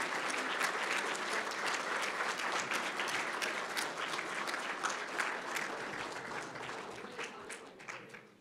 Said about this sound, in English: So please give them a round of applause if you can